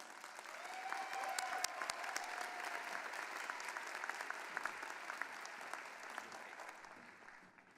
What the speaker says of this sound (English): Please join me in giving a warm round of applause to our College of Business student speaker, Ms. Sophia Gawu.